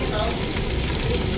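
Country chicken pieces frying in hot oil for natukodi pachadi, a dense, steady, close sizzle with faint talk underneath.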